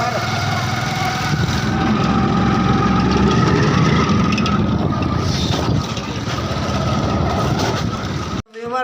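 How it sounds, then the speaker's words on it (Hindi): A motorcycle engine runs in a Pakistani village with a steady, fairly loud droning hum that continues throughout, with faint voices in the background. "तो ये है मोटरसाइकिल"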